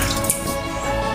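Water squirting and spattering from a leaking water pump, a dense, loud, continuous hiss and splash at close range through the whole moment.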